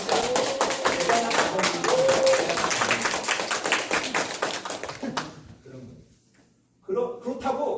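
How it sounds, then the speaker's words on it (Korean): Workshop audience at a parenting seminar claps for the men present: a dense burst of many hands clapping that fades out after about five seconds, then a short silence before a voice starts speaking. "여기 계신 남자분들에게 우리가 박수 한번 주시면"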